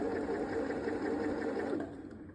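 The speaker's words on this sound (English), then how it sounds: "my sewing machine is doing some weird things" A sewing machine runs unthreaded and acting up, giving a steady, fairly quiet mechanical whir with a fast even stitching rhythm that trails off near the end.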